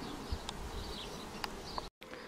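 Honeybees buzzing around a water station at an apiary in hot weather, a steady close hum with a few louder passes of individual bees, heard on its own without talk.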